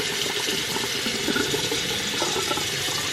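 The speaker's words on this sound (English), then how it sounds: "you're going to want to run the cold water while you do this" Cold water runs steadily from a kitchen tap into a pot of freshly boiled eggs at the sink, a continuous close rushing splash that holds even in level for the whole stretch.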